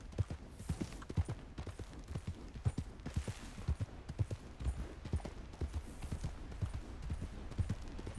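Horse hooves in Red Dead Redemption 2 thud in a steady, rapid gallop rhythm, close and continuous across the whole stretch with no voices over it.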